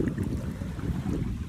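Wind gusts across a beach beside a river, a close rushing buffet of noise on the microphone, steady and fairly loud with no voices.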